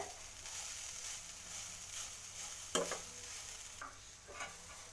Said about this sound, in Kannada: ಲೋ ಫ್ಲೇಮಲ್ಲಿ ಇಟ್ಕೊಂಡು ಹುರ್ಕೋತೀನಿ